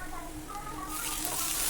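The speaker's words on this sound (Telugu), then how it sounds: "ఈ పచ్చివాసన పోయే వరకు చక్కగా ఫ్రై చేసుకోండి" Onions and ginger-garlic paste fry in hot oil in a pan, giving a steady, close sizzle that brightens and grows slightly louder partway through, with no talking.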